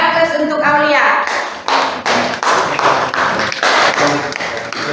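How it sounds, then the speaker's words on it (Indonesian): A classroom of students applauds a classmate with uneven, scattered claps and taps that are loud and close, mixed with voices talking at the start and throughout. "kita kasih aplaus untuk Aulia"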